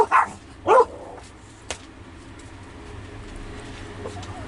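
Dogs bark as someone arrives home, giving two short, loud bursts of barking in the first second, then falling silent over faint indoor room noise.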